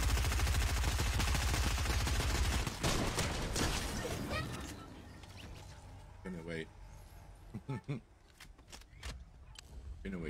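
Fortnite gunfire during a battle royale match: a dense, rapid rattle of shots for the first few seconds, then sparser game sounds while voices talk over it.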